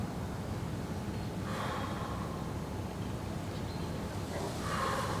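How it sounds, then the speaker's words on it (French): Deep breathing in a cold bath, with slow heavy breaths and sharp gasping inhales heard close to the microphone over a steady background rush, and no talk. "C'est toujours important de très bien respirer dedans."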